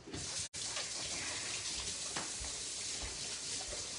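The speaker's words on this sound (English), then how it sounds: "I just gotta wash my hands real fast." Steady rush of water running from a kitchen tap during handwashing, continuous and fairly close for several seconds, broken by one very brief cut near the start.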